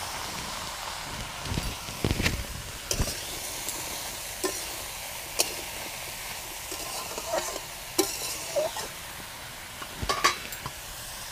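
Potatoes and bottle gourd sizzle steadily in hot oil in a pan, with occasional sharp stirring scrapes and clinks of a utensil, fairly close and with no talking.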